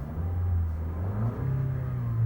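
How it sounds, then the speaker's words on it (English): A 2018 Lexus IS300 F Sport's turbocharged engine revs under throttle, a steady, close rumble that rises in pitch partway through and holds, with no talking. "so if I give it some gas"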